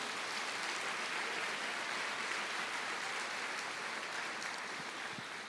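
A church congregation applauds in praise, a steady, dense wash of many hands clapping at moderate distance, continuous and even throughout with no talk over it.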